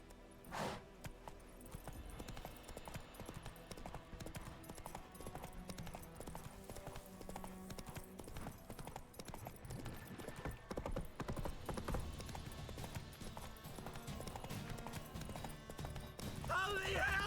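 A horse in The Witcher 3 pounds along in a quick, rhythmic hoofbeat that builds and stays loud through the stretch, with a brief snort or whinny early and a voice now and then over the game ambience.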